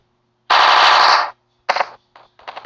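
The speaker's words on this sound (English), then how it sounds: "Oh my god, this stupid machine gun." A machine gun in the Melon Playground video game fires one long, loud, continuous burst, then several shorter bursts after a pause. The rounds blur together into a harsh, rattling roar. No one talks.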